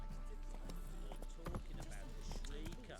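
A horse gallops in a video game, its quick, steady hoofbeats clattering under a busy bed of other game sounds.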